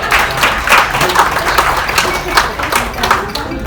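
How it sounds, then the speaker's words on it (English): A crowd at a live mentalist show applauds a volunteer. The claps are loud and come in uneven bursts, with a few voices mixed faintly into the clapping. "Give a round of applause for helping out."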